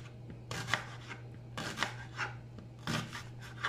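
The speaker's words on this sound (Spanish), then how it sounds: "La picamos en rodaja pequeña." A knife chops an onion into small pieces, a few quick rasping cuts in short bursts, close and fairly quiet under a steady low hum.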